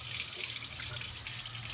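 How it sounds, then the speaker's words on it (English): Rice being rinsed under running water at a kitchen sink, with a steady close splashing rush that continues without a break and no voices. "you need to thoroughly rinse your rice"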